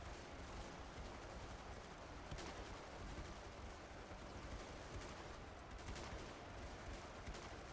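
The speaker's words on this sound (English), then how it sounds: "I need to shoot at a group with the French." Musket volleys crackle continuously in an Ultimate Epic Battle Simulator II battle between French and British line infantry, a dense, steady wash of distant gunfire with occasional sharper reports and no talking.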